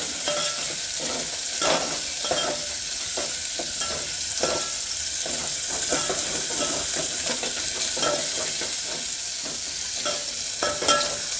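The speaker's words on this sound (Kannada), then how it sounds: "ಮೀಡಿಯಮ್ ಸೈಜ್ ಒಂದು ಈರುಳ್ಳಿ ಈರುಳ್ಳಿ ಹಾಕಿಬಿಟ್ಟು ಚೆನ್ನಾಗಿ ಒಂದು ಸ್ವಲ್ಪ ಫ್ರೈ ಮಾಡ್ಕೊಳ್ಳಿ" Chopped onion frying in a pan for a fenugreek and spinach leaf sambar, with a steady close sizzle broken by repeated scraping strokes of a stirring spoon, and no voices.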